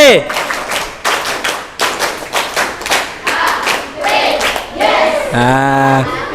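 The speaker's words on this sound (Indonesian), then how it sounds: "Kurang kompak. Tepuk HW." A group performs the tepuk HW rhythmic clap routine during an akhlak lesson at Darul Arqam Muhammadiyah, sharp claps landing in a patterned rhythm with chanted voices, ending in a sustained sung tone.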